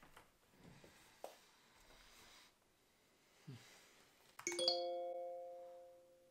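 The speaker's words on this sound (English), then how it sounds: "It's the sound of a bunch of things getting put on your calendar." A bright electronic calendar notification chime rings out near the end, its tones sustaining and slowly fading after several seconds of quiet background rustling and faint knocks.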